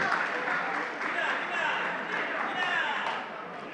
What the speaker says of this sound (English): A round of applause for the youth leader.